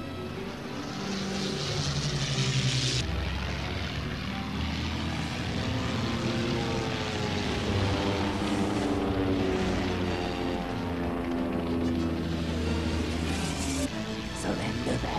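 A propeller plane engine drones steadily and loudly in an animated cartoon aerial dogfight, its pitch shifting as it runs throughout with no voices.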